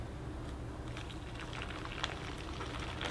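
Hot water pours into an MRE cocoa beverage pouch, a soft, steady trickle and patter that runs quietly throughout with no talking.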